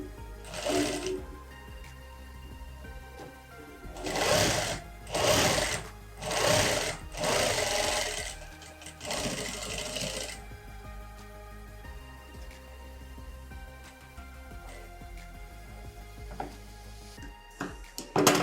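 A sewing machine stitches a seam on a child's skirt and top, running in several short bursts of rapid whirring, then a longer run, with quieter handling sounds between and a brief clatter at the end.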